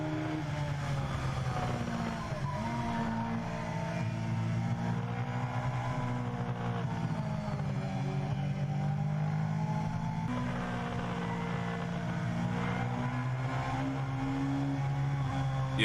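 A carbureted-sounding sport bike engine drones steadily on an onboard ride, its pitch rising and falling with throttle changes, loud and continuous throughout.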